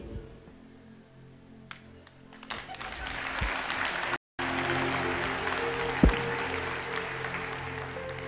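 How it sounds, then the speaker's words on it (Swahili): An audience in a church claps for Murage, a sustained round of applause that swells partway through and carries on steadily, with a brief gap and faint talk beneath. "Tupigieni Murage makofi mazuri."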